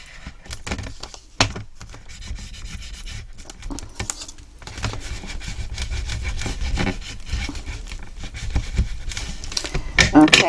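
Burnishing strokes on a folded paper tri-fold photo frame, a close, soft rubbing and patting of a tool over creased paper, repeated in uneven passes that grow slightly louder toward the end.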